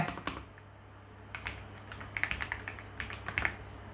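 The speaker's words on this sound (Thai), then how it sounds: "ในส่วนของคีย์บอร์ด ผมเชื่อมต่อแบบบลูทูธไว้นะ" Fingers type on a Bluetooth keyboard paired to a TCL Tab 10L Gen 2 tablet: a burst of key clicks, a pause, then quick irregular runs of close, crisp taps.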